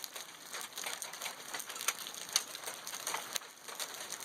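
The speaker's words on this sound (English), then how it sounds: "Big hail, about a little above pea-size hail." Pea-size hail falling and bouncing outdoors during a storm, a dense patter of sharp, quick ticks with a few louder distinct hits, steady and fairly faint, with no voices.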